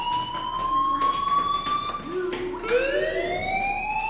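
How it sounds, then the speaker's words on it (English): A rising and falling electronic wail, taken as the fire alarm in the video game Life Is Strange, sounds loud and continuous with pitch sweeps and restarts, while a voice speaks beneath it. "do you hear that fire alarm? That means you should be outside."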